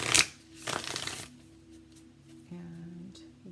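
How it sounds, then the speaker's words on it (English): Tarot cards from a Modern Love Tarot deck are shuffled up close in a few quick riffling bursts, with a faint hum and brief quiet gaps between them. "We use the Modern Love Tarot by Ethany."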